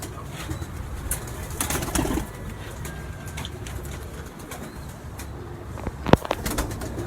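Pigeons coo repeatedly nearby in a loft, soft throaty calls over a busy background of rustling and occasional sharp clicks, with a louder knock near the end.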